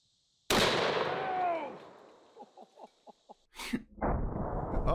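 A 700 BMG rifle firing a single 1,000 grain soft point round at close range, one huge sharp blast with a long ringing tail, then a series of short knocks, a sudden burst and rustling movement.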